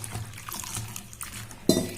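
Chopped raw tomatoes mixed by hand with salt and water for a raw tomato chutney, giving wet squelching and sloshing, then a louder clatter against the bowl near the end, with no talk.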